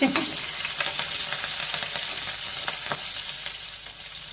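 Whole green chillies, slit down the middle, frying in hot oil for a wheat noodle upma: a loud, dense, continuous sizzle with scattered crackling pops, close up and with no talk.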